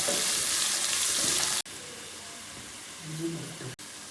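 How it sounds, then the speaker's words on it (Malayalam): Ginger-garlic paste frying in a pan for vegetable biryani gives a strong, hissing sizzle that drops to a softer, steady crackle partway through, with a few brief cutoffs, heard up close. "ഇതിലേക്ക് ഞാൻ ഇഞ്ചിയും വെളുത്തുള്ളിയും പേസ്റ്റാക്കിയതാണ് ഇടുന്നില്ലേ."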